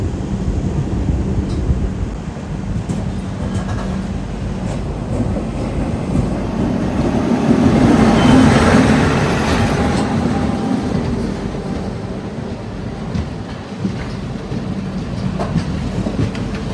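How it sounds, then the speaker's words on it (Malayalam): The Mangaluru–Chennai Egmore Express passes close by, a loud continuous rumble and rattle of rail cars and wheels swelling toward the middle and staying heavy throughout. "ഏതാണ്ട് വരുന്നത് നമ്മുടെ മാംഗ്ലൂർ ചെന്നൈക്മൂർ എക്സ്പ്രസ്."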